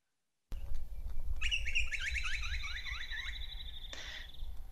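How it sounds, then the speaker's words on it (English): A butcherbird's call, a predatory songbird, opens with clear whistled notes, then a rapid repeated trilling duet rides over it, bright and close against a soft background hiss. "So that was a butcher bird call, which is a predator, with a duet on top of it."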